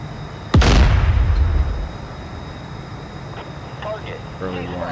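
In the DCS combat flight sim, Bradley fighting vehicles fire near a runway: one sharp loud cannon blast followed by a long rumbling decay, then quieter background hum as a voice speaks.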